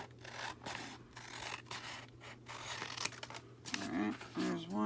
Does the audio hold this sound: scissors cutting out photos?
yes